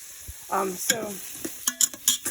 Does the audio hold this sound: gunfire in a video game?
no